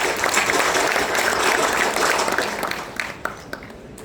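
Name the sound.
audience applauding to honour a guest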